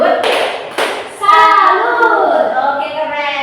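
Classroom of children doing a rhythmic Indonesian "tepuk salut" clap routine, a few sharp hand claps followed by chanted voices.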